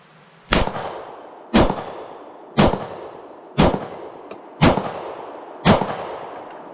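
Six evenly spaced pistol shots from a Mossberg MC1 SC, about one per second, each a loud, sharp crack that fades quickly, with no talking between them.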